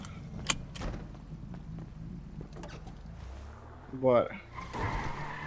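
A car drives in the video game GTA, with a low engine rumble and a brief, loud tire screech near the end, under steady male conversation in Portuguese.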